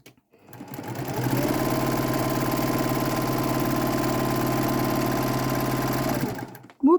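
Close, steady whirring hum of a sewing machine running a continuous line of stitching through a quilt block, starting up, holding an even mechanical rhythm for several seconds, then stopping, with no talking.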